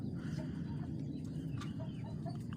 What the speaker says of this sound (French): je vais ouvrir les poules avec vous